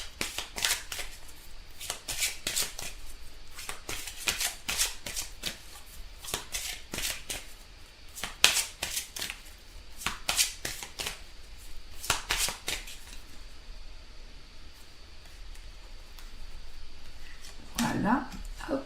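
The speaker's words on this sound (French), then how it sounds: "on tire une carte des anges pour éclaircir ce tirage" Angel oracle cards shuffled by hand: quick crisp riffles and slides in repeated bursts, close and soft, thinning out toward the end with a brief low thump.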